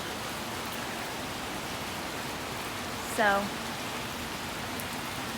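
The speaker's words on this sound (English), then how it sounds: "it is actually raining" Steady rain falls outside as a constant, even hiss. It holds at moderate loudness throughout, with a short voice cutting in briefly partway through.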